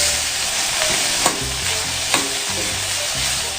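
Chopped onion sautés in hot oil toward a reddish brown, giving a steady, loud, hissing sizzle with a few spoon scrapes as it is stirred.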